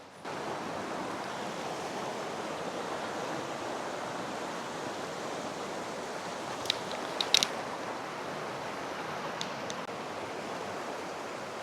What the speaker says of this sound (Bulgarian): Тук долу има един много красив водопад